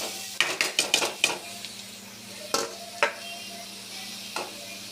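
Beetroot sautéing in a pan: a run of quick, sharp metallic scrapes and taps of a spoon against the pan, then a few spaced knocks over a low, steady sizzle and a faint hum, no talking.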